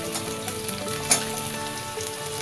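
Potato pieces fry in a pan with curry leaves, chopped green chilli and ginger for vegetable poha, making a close, continuous sizzle with a sharp stirring clink near the middle and no talk.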